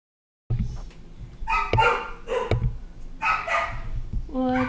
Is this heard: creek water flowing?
no